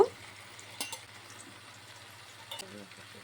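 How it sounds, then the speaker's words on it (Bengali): Fried potatoes and drumsticks added to frying spices in a pan, a faint low sizzle with a couple of brief clinks and scrapes, quiet and close with no talk. "এখন ভেজে রাখা আলু ডাঁটাটি দিয়ে দেব"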